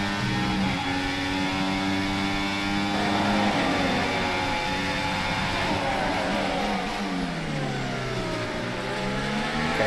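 F1 24 race car in a video game, engine howling loud and continuous with rising and falling pitch through gear changes, with a sweeping drop as the car brakes sideways, then revving again.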